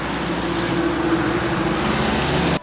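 Cars pass close by on a roadside, making a steady whooshing traffic drone with a low engine hum, loud and continuous for the few seconds before it cuts off.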